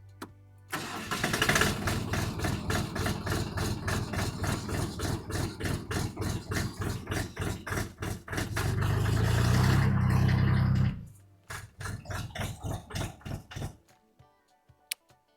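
A 2023 YTO 244 SX tractor engine cranks and catches, then runs steadily with a rhythmic diesel chug, revving louder for a stretch before being shut off and falling silent near the end.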